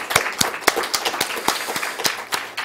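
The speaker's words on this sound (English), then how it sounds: "Can we have a round of applause?" An audience claps for the speakers at a Smithsonian archives fair, heard as a sparse, uneven patter of individual hand claps, fairly close and moderately loud.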